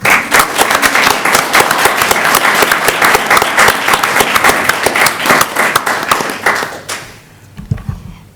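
At a board meeting, the room gives staff loud, dense applause for about seven seconds before it cuts off abruptly, leaving a few faint sounds and a low murmur.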